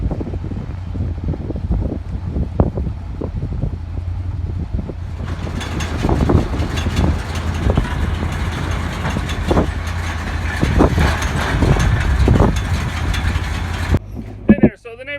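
A tractor-driven baler works through a small patch of straw and grass outdoors, its engine droning steadily at a moderate distance while gusty wind buffets the microphone and occasional heavier thumps rise above the hum.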